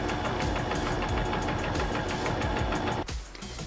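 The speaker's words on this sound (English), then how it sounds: "I sewed it on the edges" A sewing machine stitches the edges of a canvas tote bag pocket, a steady rapid mechanical chatter running loud and continuous for about three seconds before stopping abruptly, leaving a quieter background.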